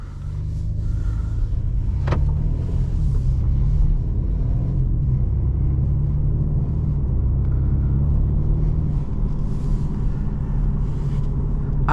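A 2022 BMW 430i Gran Coupe drives along with a steady, loud low rumble of engine and road noise heard from inside the cabin, continuous and without talk.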